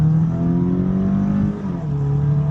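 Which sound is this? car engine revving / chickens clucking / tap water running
car engine revving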